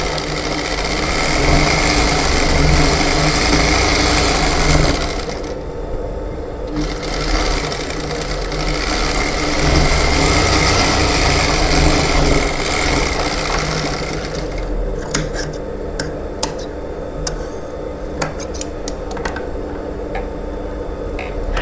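A sewing machine stitches the seams of a lined blouse with a loud, continuous motor hum and rapid needle rhythm. It dips briefly, then resumes, and faint ticks and clicks come in toward the end.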